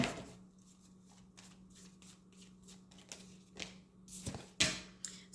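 Tarot cards are shuffled in soft, quick riffling bursts, with a few sharper slaps and snaps toward the end as cards are handled and drawn, close and fairly quiet, with a faint steady hum beneath.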